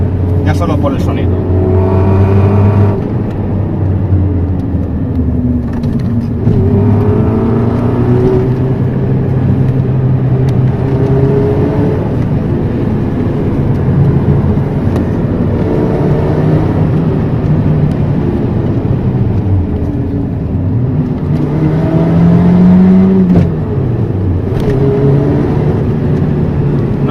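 Engine of a supercharged Volkswagen Polo G40, heard from inside the car as it drives, gives a steady droning hum with rising and falling revs through gear changes, loud and continuous, with a voice talking over it.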